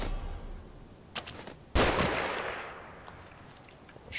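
Gunfire in the horror video game The Evil Within: a few sharp shots, then one loud close blast with a long decaying echo, set over quiet ambient game noise with no talking.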